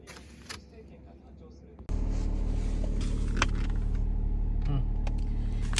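Car interior while driving, a steady loud engine and road rumble that starts abruptly partway through, with a few brief clicks and knocks; someone speaks over it.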